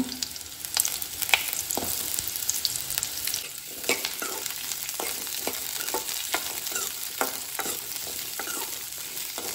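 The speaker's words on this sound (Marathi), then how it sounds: "हो जो कांदो आसा पळय न्हू तो आमकां तेलान आतां बरो तळसून घेवपाक जाय" Onion and green chilies fry in hot oil for a Goan wild mushroom dish, a steady close sizzle broken by frequent sharp spatula taps and scrapes as they are stirred.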